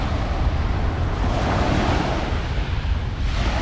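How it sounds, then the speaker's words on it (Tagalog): Ocean waves wash steadily onto a Manila Bay shore, a continuous broad roar of surf mixed with wind buffeting the microphone. "ang sarap makinig ng ano, ng alon dito sa Dalampasigan"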